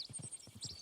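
Horse hooves clip-clop in Red Dead Redemption II, a quick run of soft close steps with a brief high squeal of tack or a whinny, all very faint.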